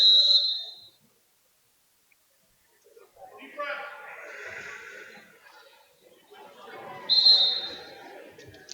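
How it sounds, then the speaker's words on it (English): A referee blows a sharp, shrill whistle at a high school heavyweight 285-pound wrestling final, heard once at the start and again near the end, with commentators talking in between. "Blowing whistle, getting back to action."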